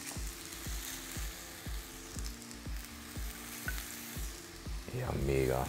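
Sweet potatoes and vegetables fry in a hot pan, a steady sizzle under regular rhythmic clatter of stirring, with a brief louder burst near the end; no talking.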